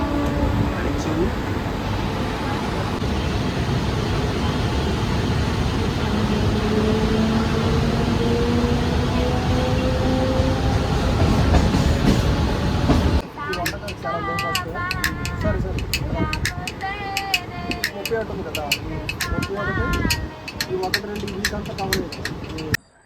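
A Mumbai local train rumbles on an early-morning ride, a loud steady roar from inside the carriage that turns into a busier, rhythmic clatter partway through, with faint voices mixed in.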